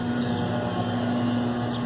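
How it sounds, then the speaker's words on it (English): A lawn mower runs nearby outdoors, its small engine making a steady, unbroken drone with a firm low hum throughout the short stretch, and no voices are heard. "I got people mowing here."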